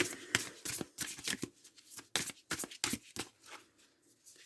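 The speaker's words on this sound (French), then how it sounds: "on va tirer 3 cartes des messages de ton corps" Tarot cards being shuffled by hand, close up, in a steady run of crisp riffling flicks and slaps with brief gaps between bursts, with no talk over them.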